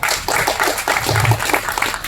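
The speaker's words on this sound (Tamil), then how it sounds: "அதுக்கு மிகப்பெரிய கைத்தட்டலை கொடுக்கலாம்" An audience at an audio release function applauds, a dense continuous patter of clapping from a crowd filling the short span.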